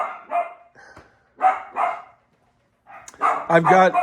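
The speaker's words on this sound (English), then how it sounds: "Chloe, no barking." A dog barks close by in short bursts, a few single yaps with pauses between, then a quicker run of barks near the end.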